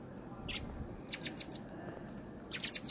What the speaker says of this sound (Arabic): طبعا الشحرور من الطيور الجميلة والمغردة